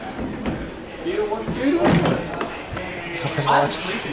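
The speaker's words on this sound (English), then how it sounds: "You just pull the handle, the door slides open." A train carriage's sliding door is pulled open by its handle and shut with a rumbling slide and a thud, close by, amid background noise and talking.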